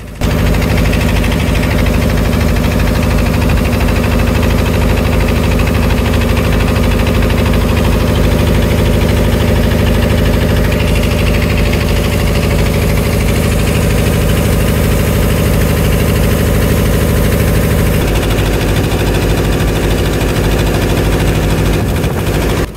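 A fishing trawler's engine runs at sea in the Bay of Bengal near the Sundarbans, a loud, steady, close droning rumble with constant vibration that continues without a break.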